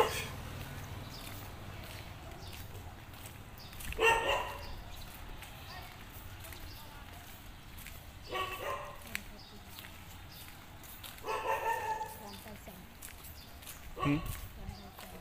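A dog in a rainy-season market area in Cambodia barks a few times at a distance, short separate yelps spaced over background murmur and faint voices.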